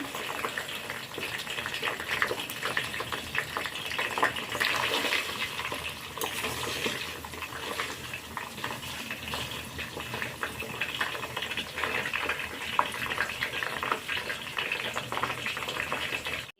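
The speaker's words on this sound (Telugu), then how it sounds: "ఈ ఆయిల్ ఇప్పుడు మధ్యలో ఒకసారి ఇలా కలుపుతూ ఉండాలి చూడండి మంచిగా హీట్ అవుతుంది" Homemade coconut hair oil heating in a pan while being stirred, a steady bubbling, sizzling wash of sound that stays fairly even and close throughout with no talking.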